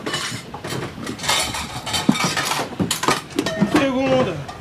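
Metal cooking pot and lid handled on a boat galley stove, a run of clanks, scrapes and clinks with quieter rattles between, close and moderately loud, voices murmuring briefly underneath.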